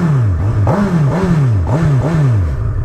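A 2019 Honda CB1000R Plus motorcycle engine revs up repeatedly to about 6,000 RPM, its pitch climbing and dropping in quick surges, loud and close with no talking.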